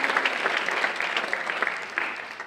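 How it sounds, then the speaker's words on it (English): Audience members at a Beverly Hills High School senior awards night applaud family members with brisk, close clapping, individual hand strikes popping out of a moderate, uneven burst. "let's give a round of applause for all the family members"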